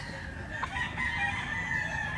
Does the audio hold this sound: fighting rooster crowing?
yes